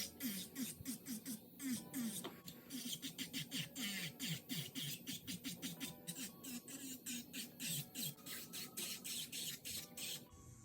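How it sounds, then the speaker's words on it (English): An electric nail file fitted with a coarse sanding band grinds down a polygel nail, its motor whirring in short, shifting bursts with scratchy contact noise throughout. "Now with the e-file, I have this coarse band on, and I'm just gonna use it to debulk this nail."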